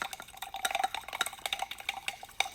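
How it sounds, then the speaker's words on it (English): A screwdriver stirs a jar of muck and sediment, giving quick irregular clinks and scrapes against the glass with soft wet swishing between them, close and fairly quiet, with no talk. "You get to watch someone stirring muck with a screwdriver."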